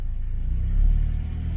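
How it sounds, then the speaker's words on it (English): A Cosworth car engine gets a light rev, a deep low rumble that swells briefly and settles back, loud and close with no talk over it. "we'll give it like a little bit of revs, not even that much"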